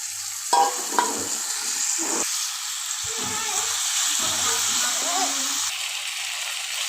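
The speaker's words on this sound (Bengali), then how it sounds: "ভালোভাবে নেড়ে চেড়ে মশলাটা কষায় নিলাম" Goat meat sizzles steadily in a pan with spices as it is stirred and turned for a bhuna curry, with scraping strokes over a continuous loud frying hiss.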